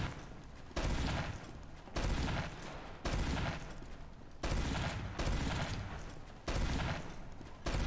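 Bursts of gunfire in Team Fortress 2, six loud rapid volleys in a regular rhythm with short gaps between them, heard alone without talking.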